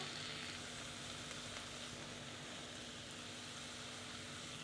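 Mushrooms grill in butter in a pan as a steady, soft sizzle hisses throughout, close by but fairly quiet, with no talking.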